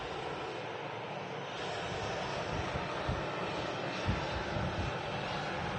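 A Jet2 Boeing 737 at Manchester Airport produces a continuous broad engine roar throughout, steady and fairly loud, with slight swells and no voices.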